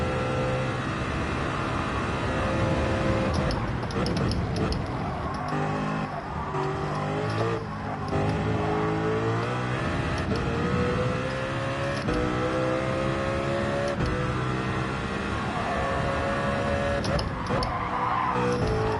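Race car engine in Gran Turismo 7 held at high revs, a loud continuous whine with rising pitch sweeps as it accelerates through gears, with hints of tire squeal, filling the whole stretch without speech.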